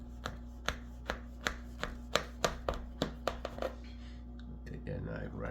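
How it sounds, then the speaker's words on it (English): A knife cuts down through a tray of baklava with about a dozen crisp, evenly spaced crunches close to the listener, followed by a softer shuffling sound. "Take that knife right down through it."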